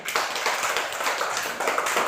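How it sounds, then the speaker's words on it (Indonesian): A classroom group claps hands together in brisk, sustained applause, the sound dense and fairly loud throughout. "Tepuk tangan lagi."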